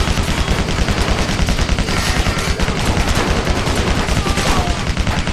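A continuous, dense barrage of rapid gunfire from the Barrage special attack in Stranglehold rattles without pause, loud and close, layered over crashing impacts.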